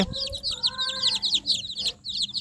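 Young desi chicken chicks in a brooding house chirp in a dense, rapid stream of high peeping calls, several birds overlapping close by, with a brief lull near the end before the chirping resumes.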